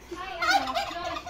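A single turkey gobbles nearby in Bohol, a quick rattling burst of warbling notes lasting just over a second.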